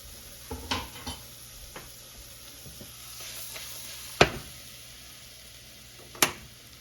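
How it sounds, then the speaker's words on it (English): Mushrooms sautéing in a pan on a stovetop burner for creamy mushroom soup, with a soft continuous sizzle broken by a few sharp utensil clinks and scrapes against the pan. "I'm going to saute this for a few minutes"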